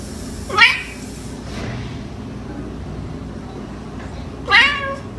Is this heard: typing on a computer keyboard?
no